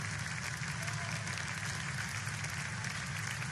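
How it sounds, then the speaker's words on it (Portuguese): A church congregation at a Portuguese-language service claps to glorify the Lord, a faint, continuous patter of applause over a low background hum that is heard from a distance. "pode glorificar o Senhor com palmas."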